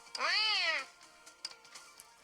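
A chubby cat in the video game Honkai Impact 3rd lets out one clear, rising-then-falling meow, close and prominent, followed by faint scattered rustles and clicks.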